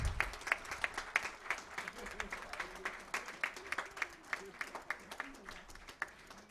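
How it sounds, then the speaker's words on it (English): Audience applause at a memorial lecture, steady rhythmic clapping from a hall crowd, moderately loud and sustained throughout. "A big round of applause."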